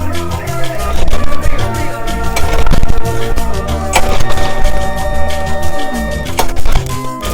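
A V8-engine-powered blender grinding mixed nuts, a loud continuous mechanical roar with rattling and knocking throughout, steady and close.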